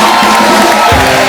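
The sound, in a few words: studio audience applause and cheering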